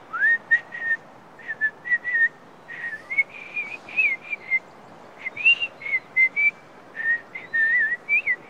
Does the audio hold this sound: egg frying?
no